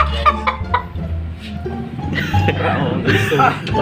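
A rooster clucks in short bursts near the start, then people talk and laugh loudly over a low background rumble.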